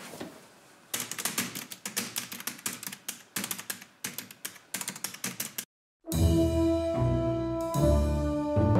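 Rapid clacking keystrokes of a manual typewriter typing letters in an office, irregular bursts of sharp taps for several seconds, then a sudden switch to a steady louder tonal hum after a brief gap.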